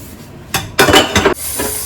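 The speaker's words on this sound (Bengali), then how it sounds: "আছে কটা বাসন, ধুয়ে নিয়ে তারপর করবো।" Dishes, pots and utensils being washed by hand, a few close metallic clanks and clinks of cookware knocking together in short bursts, with running-water hiss between them.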